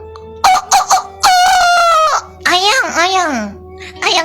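A live chicken crows and clucks up close, several loud, sharp bursts followed by a long drawn-out crow and a wavering cluck, in a short lively sequence.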